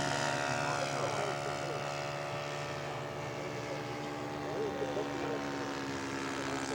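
A scale model propeller aircraft comes in to land at a scale aircraft show. Its engine gives a steady, continuous droning whine with a strong buzzing tone that holds at an even loudness throughout.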